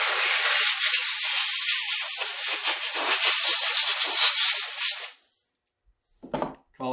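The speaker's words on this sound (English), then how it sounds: "So I usually do take this off, give it a good blow." Compressed air blasts steadily onto the air filter of an Echo CS-590 chainsaw, a loud close hiss lasting about five seconds that stops abruptly, followed by silence and a brief handling rustle.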